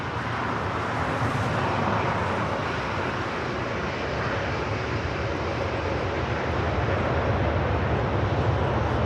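A Boeing 777-300ER airliner at Los Angeles airport, bound for Taipei, produces a loud, continuous broadband jet engine roar that holds steady throughout, close by and alone.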